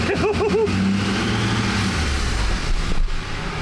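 A Duramax diesel truck engine in drive, running loud and close with a rising and falling rev and a brief whining pitch sweep at the start, while someone speaks briefly over it.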